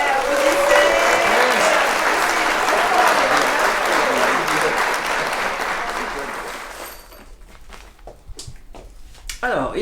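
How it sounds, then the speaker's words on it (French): An audience bursts into loud, dense applause that fills most of the stretch before tapering into scattered, fading claps near the end. "Ouais, applaudissez."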